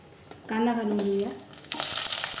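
Sliced onion dropped into hot oil with bay leaf, cloves, pepper, star anise and green and black cardamom, a sudden loud sizzle that settles into steady close frying hiss, with a brief voice at the start.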